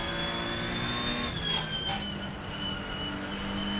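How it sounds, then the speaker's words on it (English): A Ferrenzo P49 race car in the Assetto Corsa racing game gives a steady high-pitched engine whine with falling tonal harmonics as the throttle lifts, loud and continuous over a constant rumble, with no voices. "I love the engine whine when it come off the throttle there"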